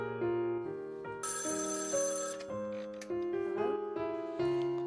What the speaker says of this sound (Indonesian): mereka dikejutkan dengan suara telepon hotel yang berbunyi sangat kencang